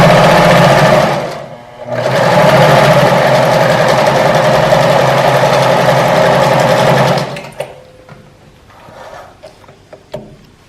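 A home sewing machine stitches lycra in a loud, fast, even whir, pausing briefly, then running steadily for several seconds before stopping, followed by faint clicks.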